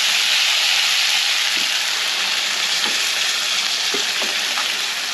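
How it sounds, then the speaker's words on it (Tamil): Crab pieces frying in a pan for a spicy Tamil crab varuval, a steady loud broadband sizzle running unbroken throughout with a few faint stirring knocks, no voices. "இப்போ நல்லா 5 நிமிஷம் நல்லா நண்டு வதங்கி வந்துச்சு."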